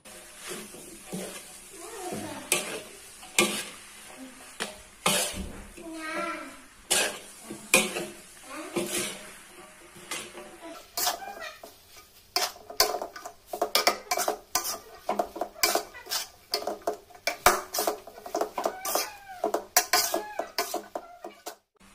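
Yellow noodles and chopped mustard greens stir-fried in a pan, with repeated clattering of a metal spatula against the pan and sizzling at a busy, irregular rhythm, growing denser and louder toward the end.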